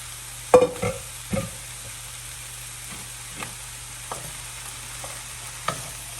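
Green cabbage, small chopped jalapenos and vegetables stir-frying in a pan for vegan chow mein, a steady sizzle with a few sharp stirring scrapes and knocks early on, then sparse utensil taps.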